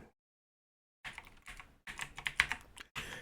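Fingers tapping out a password on a computer keyboard during a Linux installer setup, a burst of close, quick keystrokes after a second of silence, uneven in rhythm, with no talking.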